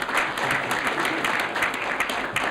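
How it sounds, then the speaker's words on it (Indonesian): An audience at a comedy chat show applauds comedian Atet Zakaria, a brisk, steady burst of clapping from a crowd of people. "tepuk tangan ya."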